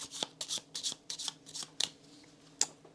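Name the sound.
playing cards being shuffled for Hadrian's Wall board game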